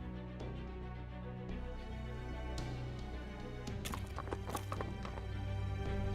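Horse hooves clip-clopping in the Fate/Grand Order video game, a rhythmic trot layered over sustained game music, with a brief whinny-like burst near the end.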